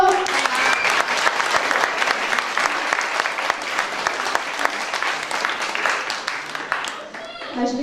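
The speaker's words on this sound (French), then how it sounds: "C'est Stéphane, que l'on peut applaudir très fort." Loud, full applause from a show audience greeting Stéphane, with dense clapping throughout and voices mixed in, thinning briefly near the end before picking up again.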